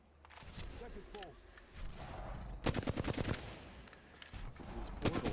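Apex Legends gunfire, several bursts of rapid automatic shots, loud and close, breaking off and resuming in clusters, with a voice talking between them.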